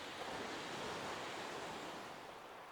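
Sea waves at Chesil Beach surge in a steady, unbroken wash of surf, loud and close, with a faint hint of wind and no voices.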